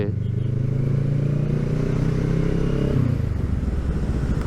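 A two-cylinder 650cc Kawasaki ER6N motorcycle engine idles and runs steadily up close with a deep, throbbing low rumble, its pitch dipping slightly near the end.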